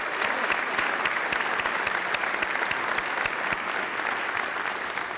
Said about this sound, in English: Would you just join me by clapping once for David again